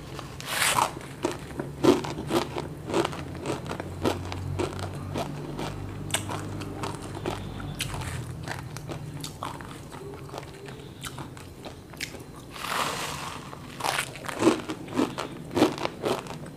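Crispy fried kremes bitten and chewed close to the mic in ASMR style, bursts of brittle crunching separated by softer chewing, clusters of crunches near the start and end.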